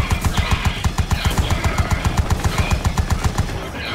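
Rapid, evenly spaced bursts from a vehicle-mounted machine gun in the video game Rage 2, loud and close, firing in a relentless rhythm for several seconds without talking.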